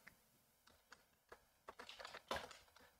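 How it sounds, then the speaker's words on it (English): Keystrokes on a computer keyboard while coding a UEFI menu in C, with scattered single taps early on, then a denser burst of quick typing, close and moderately quiet with no talk. "If I can type the right characters."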